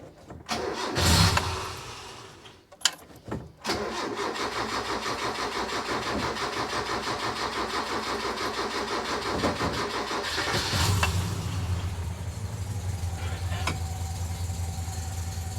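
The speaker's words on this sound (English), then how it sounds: "I got the carburetor dialed in to where it'll sit here and idle and you can rev it up" A mini truck engine with a freshly tuned carburetor cranks and catches, then settles into a steady, loud idle with a few rises in revs, heard up close with no talking.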